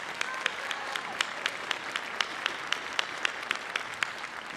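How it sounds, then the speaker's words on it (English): A round of applause at a fall college commencement ceremony, a large crowd clapping continuously in a big hall with a few sharper individual claps standing out, fairly faint and distant with no talk over it. "let's give them another round of applause"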